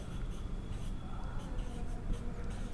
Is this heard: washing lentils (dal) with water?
no